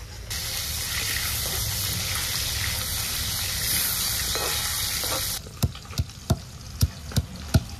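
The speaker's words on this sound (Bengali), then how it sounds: "তার আগে আমি মাছগুলো ভেজে নেবো, পেঁয়াজ ভাজা তুলে নিয়ে মাছ ভাজবো।" Pieces of katla fish fry in mustard oil, making a loud, even sizzle that drops off abruptly near the end, followed by a few sharp clinks of a utensil against the pan.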